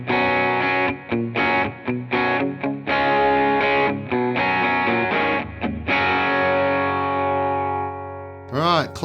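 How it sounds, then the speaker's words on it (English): Slightly overdriven, processed Fender Player Acoustasonic Telecaster electric guitar, played through its pickup with sustained chords and short rhythmic breaks, then a final ringing chord that fades out. "a slightly overdriven, more processed Telecaster sound using this pickup here"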